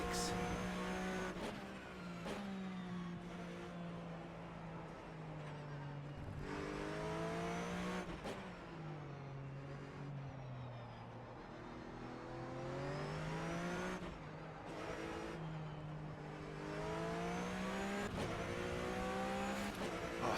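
Flat-six race cars in the rFactor 2 racing game lapping Palm Springs, engines revving up and down through repeated gear shifts and braking, loud and continuous with rising and falling pitch.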